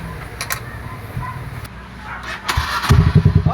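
A rebuilt trail motorcycle with a new carburetor starts up, with a starter whir and a few rough firings that become a loud, pulsing engine idle toward the end, close by, with people talking over it.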